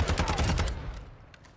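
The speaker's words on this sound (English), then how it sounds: "A shotgun." Rapid burst of gunfire in the video game Modern Warfare 2, several quick loud shots in a tight cluster during the first half second, then fading out with faint distant pops.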